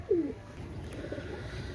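A single short pigeon coo, close and clear at the start, among Pakistani Teddy pigeons kept by a breeder, followed by a low ambient murmur with no talk.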